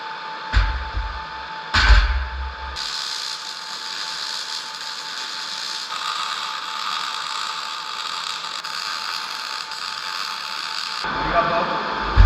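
Steel is welded solid around the legs of a rough-metal storage rack: a couple of heavy knocks, then a long, even crackling buzz of the arc lasting about eight seconds before stopping.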